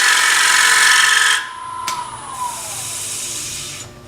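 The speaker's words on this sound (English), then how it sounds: "I can slow the lathe down by holding onto the bowl" A wood lathe spins a bowl while a bowl gouge cuts, giving a loud, steady hissing shear for over a second. It then drops to a quieter whirring hum with a brief scrape and a falling whine as the cut eases.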